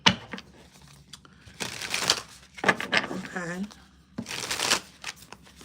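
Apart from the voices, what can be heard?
shuffling a deck of tarot cards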